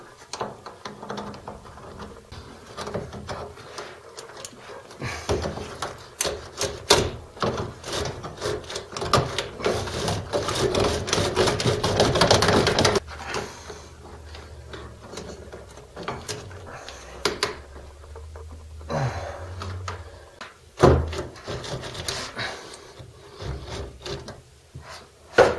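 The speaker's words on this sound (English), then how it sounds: "So you got to work at getting these no hub couplers loose." Tight no-hub couplers on corroded bath drain pipes are worked loose: intermittent ratcheting, clicking and scraping metal sounds come in bursts, close by, with quieter pauses between.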